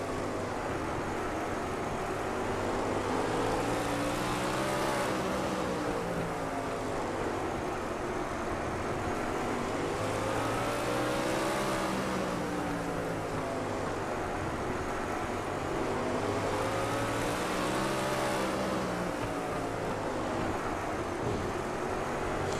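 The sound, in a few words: race car engine, onboard at half throttle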